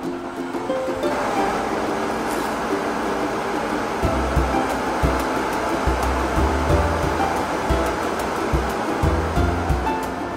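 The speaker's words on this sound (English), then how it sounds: "You can also adjust the fan speed with this onboard dial." The turbofan on a Llano RGB gaming laptop cooling pad runs with a steady, loud, close whoosh of rushing air, with faint low thumps partway through and no speech.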